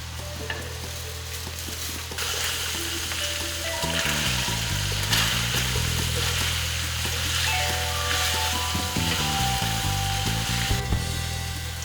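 Pork frying over a fire in a pan, with a steady close sizzle and crackle continuing throughout while it is stirred; there is no talking.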